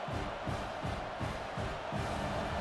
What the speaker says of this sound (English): Listen to the crowd energy here in the early going.